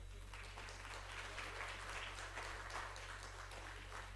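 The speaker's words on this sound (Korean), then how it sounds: "박수." A church congregation applauds during a sermon, faint, even clapping from many hands heard at a distance over a low steady hum.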